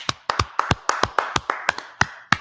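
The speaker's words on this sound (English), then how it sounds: "Let's clap it up for the class if we can." An audience claps for a class in sharp, irregular separate claps, about a dozen over a couple of seconds, close and loud with no talk.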